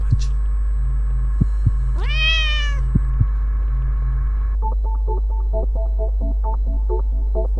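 A cat in The Cat Lady video game lets out one clear, drawn-out meow over a constant low hum, with a few clicks nearby and electronic beeping tones afterward.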